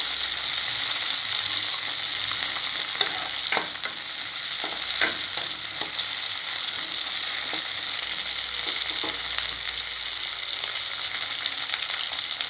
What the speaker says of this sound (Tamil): இந்த டயத்தில் நான் தக்காளி ஆட் பண்ணியிருக்கேன். நல்லா ஃப்ரை ஆகட்டும்.